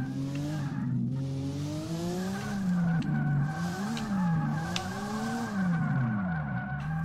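Tyres squeal steadily as a car skids and spins out in the DRIFT21 drifting game, the engine note wavering up and down beneath the screech for several seconds, loud and continuous with no talking.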